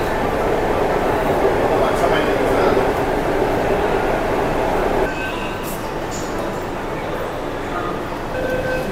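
A Mumbai Metro Line 7 train runs along the track, heard from inside as a loud, steady rumble that eases to a slightly lower level partway through.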